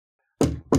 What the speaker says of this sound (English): Then she heard a knocking sound.